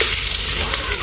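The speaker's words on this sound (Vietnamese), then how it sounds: "xào tỏi cho vàng để cá cho nghe nha" Garlic stir-frying in a pan, a close, steady hiss of sizzling oil filling the whole brief moment.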